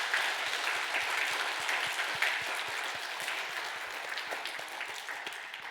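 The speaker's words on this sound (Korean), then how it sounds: "우리 힘차게 박수하도록" A church congregation at a Sunday worship service at Gyulhyeon Church claps vigorously, producing a steady, dense wash of hand claps that continues evenly throughout at moderate volume.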